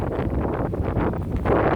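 Wind from Hurricane Fiona buffets the microphone in a continuous low rumble and roar, gusting slightly stronger toward the end, with no voices.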